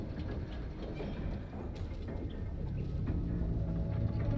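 A train rolls along rails inside a mine in the video game God of War Ragnarok, a steady low rumble with faint rhythmic clatter throughout.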